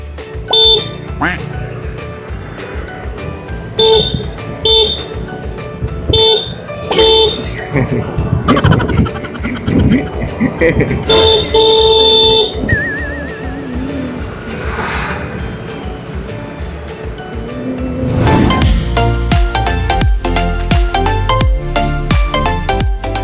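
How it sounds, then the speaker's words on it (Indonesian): Repeated short motorcycle horn beeps mixed with music and voices, coming in bursts throughout along the road, fairly loud and close. "terus-terusan membunyikan klakson sepanjang jalan"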